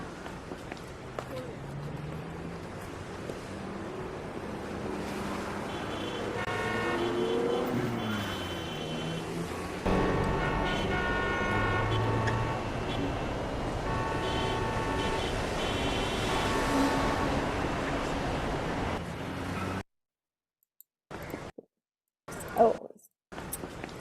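City soundscape played from a sound button: continuous urban bed of traffic rumble, passing vehicles and footsteps, fairly loud and steady for most of the span before stopping, with brief talk afterward.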